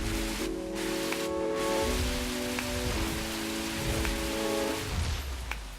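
Rain falls in The Crew Wild Run as a steady hiss of drops on surfaces, layered over a droning car engine that shifts pitch with gear changes.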